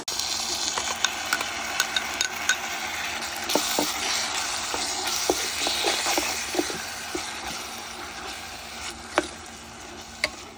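Ginger, garlic, coriander and chili paste fry in a pan with cooked onion and tomato, giving a continuous soft sizzle broken by scattered sharp clicks and taps of a utensil stirring.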